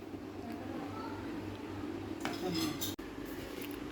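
Chicken mixed-vegetable gravy is dished out in a kitchen, with a few clinks and scrapes of a spoon against pots and plates over a quiet background hum.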